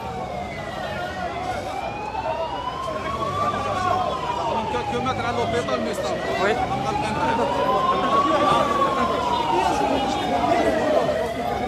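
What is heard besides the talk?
ambulance siren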